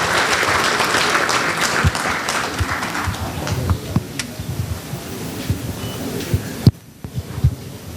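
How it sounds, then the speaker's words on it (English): A crowd claps continuously, a dense patter of hands that thins slightly toward the end, with a few louder thumps mixed in. "Let us welcome sir with a big round of applause,"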